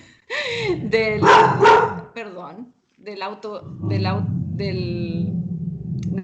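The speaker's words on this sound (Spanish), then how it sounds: "Perdón, mi perro" A pet dog barks at home during a remote-work online session, giving several loud, close barks and yelps in short bursts, with a person talking around them.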